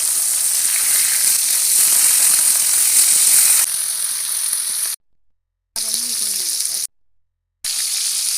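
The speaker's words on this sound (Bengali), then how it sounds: "মাছ আমি উল্টে নেব।" Flipped hilsa fish frying in oil gives a steady close sizzle, louder at first and then softer, broken by two short silent gaps.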